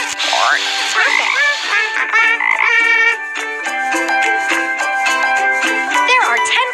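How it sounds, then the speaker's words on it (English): Cartoon frogs croak in a kids' math puzzle game, a series of bright, tonal, bouncy croaks and chirps layered over cheerful game music, loud and close throughout. "Frogs want to speed away. Tap them to help."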